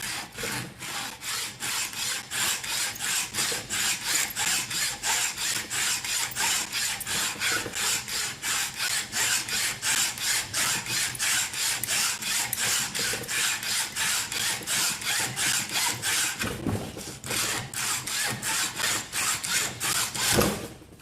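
A hand saw cutting through a metal ring clamped in a vise, a long run of rapid, even back-and-forth rasping strokes, close and loud, with a brief pause near the end before the sawing resumes and stops.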